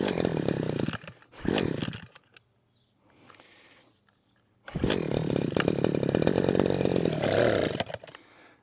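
Husqvarna 123HD60 petrol hedge trimmer, a small two-stroke engine that catches and buzzes in short rough bursts, cuts out, sputters weakly, then runs again in a steady close-up drone for a few seconds before stopping.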